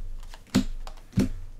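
Twilight Imperium 4th Edition objective cards dealt onto a table, two crisp slaps of card on tabletop about half a second apart, close and quiet, with faint rustling between them.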